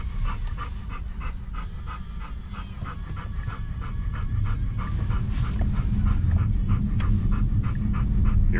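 A dog pants steadily in a car during a drive, with quick, rhythmic breaths repeating close to the microphone over a constant low road rumble that grows slightly louder.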